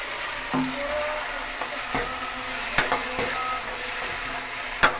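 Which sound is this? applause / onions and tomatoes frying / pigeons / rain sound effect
onions and tomatoes frying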